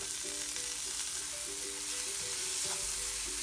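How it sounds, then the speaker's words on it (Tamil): Tomatoes sautéing in a pan with chilli powder and salt for a spicy lady's finger (vendakkai) fry, giving a steady close sizzle with light stirring scrapes throughout. "இப்போது தக்காளியும் ஆட் பண்ணி நல்லா வதக்கி விடுங்க."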